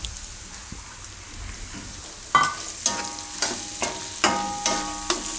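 Chopped onions drop into hot oil seasoned with coriander-cumin powder in a Gujarati kitchen, starting a loud sizzle, followed by repeated stirring scrapes that come every half second or so.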